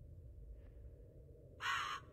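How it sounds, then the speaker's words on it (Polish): A raven in the Japanese horror game Ikai gives a single harsh caw near the end, loud against a low, steady ambient hum, with no talking. "Wypierdalaj, kruku!"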